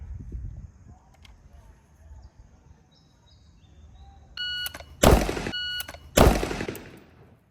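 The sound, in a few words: gunshots fired at a shooting range target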